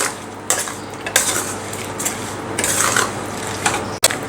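Methamba mixture with jaggery being stirred and cooked in a pan, spoon scraping and clinking against the metal in irregular bursts, close and moderately loud with no voices.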